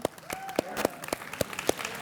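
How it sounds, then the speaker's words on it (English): A small group at a White Cane Day event claps for the Lions Club, a sparse run of separate, sharp claps spaced unevenly over a couple of seconds. "So we give a round of applause to the Lions."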